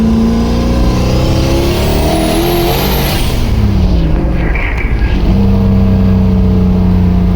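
A race car engine revs up and settles, a loud, close mechanical roar that climbs in pitch and then falls back to a steady idle.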